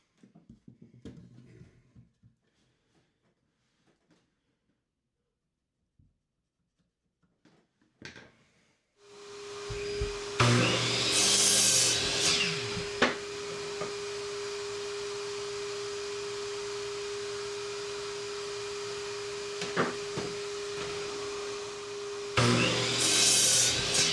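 A power saw cuts 2x4 lumber into pieces for a bench, its motor spinning up after quiet workshop handling and holding a loud steady whine, with sharper bursts as the blade bites the wood near the start and end.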